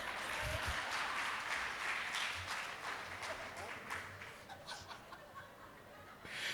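Applause and laughter from an audience at a Tamil debate-style stage event, a dense, steady wash of clapping that holds loud for several seconds before slowly thinning out.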